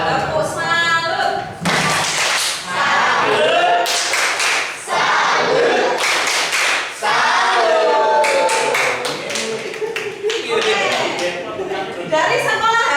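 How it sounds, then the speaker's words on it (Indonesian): An audience at a school presentation performs a rhythmic salute clap, bursts of sharp claps in patterned groups with brief pauses between them, mixed with chanting voices and crowd noise, loud and close. "Tepuk salut."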